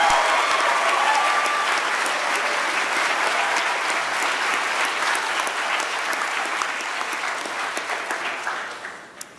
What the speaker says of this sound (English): Winners, please rise to receive our applause.